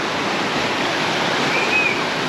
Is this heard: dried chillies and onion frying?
no